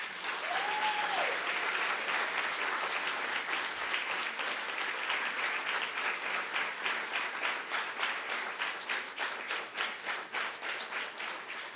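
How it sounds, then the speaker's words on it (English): Sustained audience applause at a poetry event, dense and steady at first, then thinning into distinct claps toward the end, with a brief whistle early on. "A very special applause to Dr."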